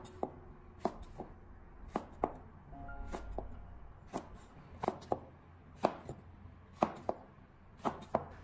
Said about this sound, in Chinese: 接下来我们再将丝瓜改刀切成大概4公分左右的长段